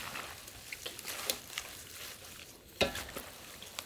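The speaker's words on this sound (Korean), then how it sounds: "대충 슬슬 버무려서 통에 넣으면 돼요." Salted young radish kimchi (yeolmu) is tossed and mixed by hand, producing faint, soft wet squishes and rustles in irregular bursts, with one slightly louder squelch partway through.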